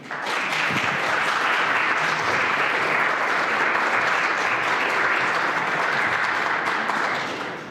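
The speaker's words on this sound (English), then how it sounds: "thank you for that round of applause for Hope" A steady round of audience applause at a therapy talk, full and even from start to finish, swelling in quickly and easing off near the end, with no voices over it.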